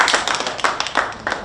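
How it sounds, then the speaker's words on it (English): An audience claps at an International Youth Day 2023 youth gathering in Rwanda, with quick uneven overlapping hand claps of moderate loudness and no voices over them. "So we need to clap for Anastas."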